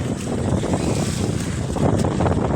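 Steady roaring wind buffets the microphone with a constant rushing wash of heavy rain and gusts during Typhoon Enteng, loud and continuous with no voices.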